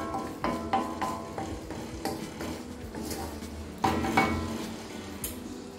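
Hibiscus and curry leaf oil is stirred as it cooks in a pan over a low flame, a spoon scraping and clinking against metal in irregular close taps and scrapes.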